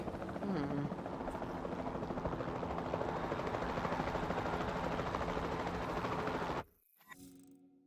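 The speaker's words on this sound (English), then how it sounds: "Then the sensible thing is to take a capture team helicopter." Capture team helicopter in the video game Jurassic World Evolution 2, a loud steady rotor drone with engine whine holding for about six and a half seconds before cutting off abruptly, leaving faint ambient sound.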